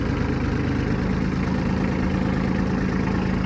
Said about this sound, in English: Tractor's running great after replacing that fuel filter.